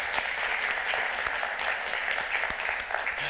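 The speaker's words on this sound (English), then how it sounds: "Can we give a round of applause for our dads?" Audience applauding dads at a morning gathering: dense, steady clapping from many hands throughout, with no one speaking over it.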